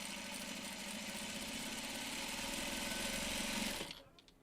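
A sewing machine stitches quilt block strips for a Delectable Mountains block, a steady fast mechanical whirr running close and alone, then stopping abruptly near the end.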